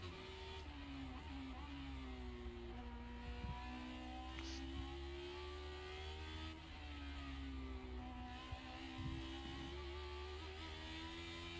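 Race car engine in the iRacing sim, sounding much like a V8, holding a steady loud drone with rising and falling pitch sweeps as revs climb and drop through gear changes, alone with no talk.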